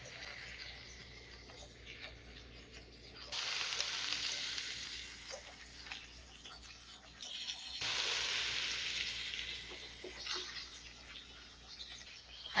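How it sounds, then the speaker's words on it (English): Chopped turnip greens and stems sizzle and fry with potatoes in a pan, a steady hiss that swells loudly twice as the greens hit the hot oil, with faint stirring throughout. "I'm going to add the turnip greens into that now."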